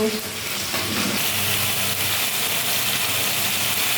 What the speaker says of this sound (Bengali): লবণ হলুদ দিয়ে মাছগুলো ভাজছি